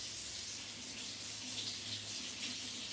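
Water runs steadily from a household tap for a few seconds, a broad continuous hiss close by with a faint low hum underneath and no talking.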